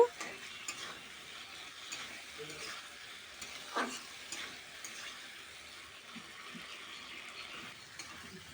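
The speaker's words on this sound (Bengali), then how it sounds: "এখন আমি এর ভিতরে দিয়ে দেব টুকরো করে রাখা টমেটো টমেটোটাকে দিয়েও কিন্তু আমি ভালো করে কষিয়ে নেব" Chopped tomato is stirred and fried in oily spice paste in a pan for a silver carp fish curry, giving a soft, faint sizzle with scraping stirs and occasional light clinks.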